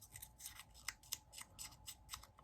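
Quiet, rhythmic scratching of scissor blades scraping along paper edges, a dozen or so short strokes in steady succession.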